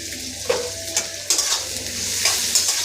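Onions and other ingredients frying in a little oil with salt for a chicken curry, a loud continuous sizzle with spatula scrapes and knocks at irregular intervals.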